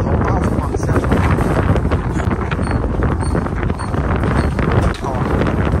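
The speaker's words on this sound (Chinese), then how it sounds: "哇，好大风啊" Strong wind on the deck of a Penang ferry buffets the microphone with a loud, constant, low rumbling roar that lasts throughout.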